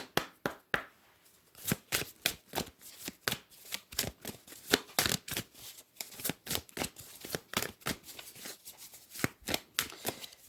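Oracle cards being shuffled and drawn by hand, a rapid run of crisp riffling and slapping bursts in uneven clusters, close and quiet with no talk.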